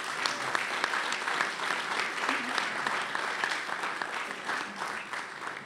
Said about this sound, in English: How about another round of applause for Admiral Zukunft?